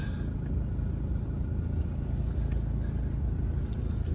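A Mercedes-Benz C250 CDI BlueEfficiency 2.1 diesel idles after starting, a steady low rumble heard up close from inside the car with no talk over it.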